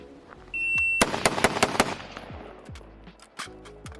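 An AR-style rifle fitted with an upgraded safety selector fires a quick string of about five loud, sharp shots close by on a range, followed by scattered distant shots and beeping timer tones.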